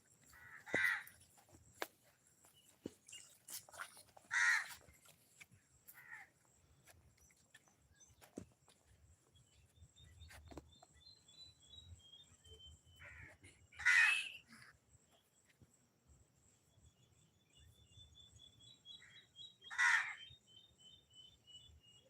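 Crows cawing outdoors in a few short, separated bursts of calls, moderately near, against a quiet background with faint footsteps and rustling.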